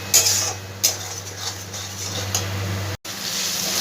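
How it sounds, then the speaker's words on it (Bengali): Spices fry in a pan for Bengali-style chicken chana masala, a low sizzle under scattered clinks and scrapes of a spoon stirring, close by with a brief cut near the end. "এবার মশলাগুলোকে খুব ভালো করে আমি ভেজে নেবো যতক্ষণ না মশলাটা থেকে তেলটা ছেড়ে দিচ্ছে"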